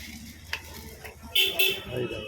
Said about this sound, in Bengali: দেখো এটাকে নাড়া দিতে হবে, নাড়া দিয়ে একটু জমাট বাঁধার জন্য নাড়া দিতে হবে।